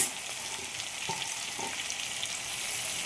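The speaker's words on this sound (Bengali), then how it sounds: "এই পেঁয়াজ কুচি দিয়ে এটাকে এবার ভালো করে নাড়াচাড়া করি" Chopped onions sizzle in hot oil with fried potatoes for a ghugni pea curry, a steady close frying hiss broken by a few soft scrapes of stirring, with no voices.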